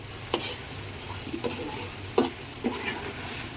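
Dried fish (shutki) cooks in plenty of oil with a soft steady sizzle, broken by a few separate scraping stirs of a spoon in the pan, close and moderately quiet.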